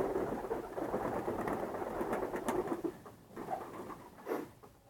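Hünkâr pigeons coo in a loft, soft throaty rolling calls rising and falling close by, with light pattering and rustling around them and a brief louder coo near the end.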